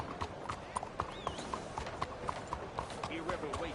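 Steady, rhythmic clip-clop of horse hooves on the ground in Red Dead Redemption 2, close and clear, with speech heard over the hoofbeats.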